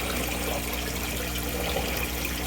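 Water in an aquaponics pond, a steady trickling and bubbling flow heard close and loud, continuous with a low pump-like hum underneath and no talking.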